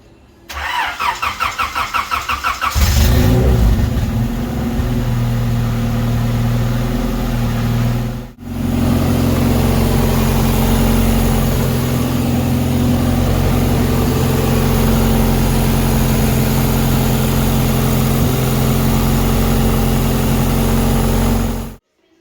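A turbocharged Acura Integra cranks and fires at about three seconds, then runs with a loud, steady engine drone, briefly dipping once before settling back into a strong, even idle close by.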